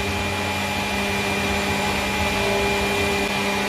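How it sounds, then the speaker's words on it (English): An electric mixer beats cake batter of flour and milk for a salted caramel cake, a loud, steady motor whir with a constant hum running unbroken throughout. "I'm just going to whisk now or beat now onto the flour and the milk"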